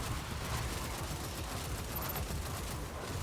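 A weapon on a Warlock build fires a continuous beam at enemies in a shooter video game, a dense and sustained crackling roar at steady loudness with no talking.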